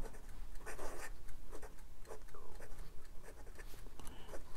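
A MaJohn P136 piston-filler fountain pen with a size 6 steel fine nib writes on Clairefontaine 90 GSM paper, making close, dry scratching strokes in short bursts with brief pauses between them.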